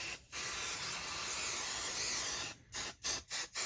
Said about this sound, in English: get your adhesive and spray. Spray from the center